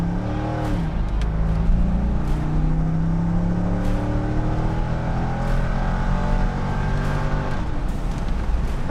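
A 1999 Chevrolet Corvette C5 convertible on the move, its engine a steady low drone with gear changes and rising and falling revs, heard close and continuous with no talking.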